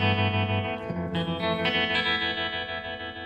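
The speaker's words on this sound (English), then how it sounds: "I've got a tremolo." Electric guitar chords ring out with a pulsing, wavering volume effect, played alone without any talking.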